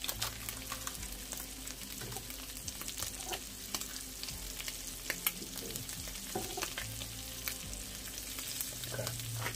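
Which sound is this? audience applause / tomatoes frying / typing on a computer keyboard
tomatoes frying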